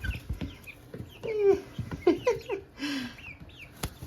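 Several newly acquired hens cluck nearby on a homestead in short, irregular bursts, with soft murmuring calls and a few sharper squawks, and no one speaking.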